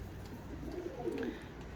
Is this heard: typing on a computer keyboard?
no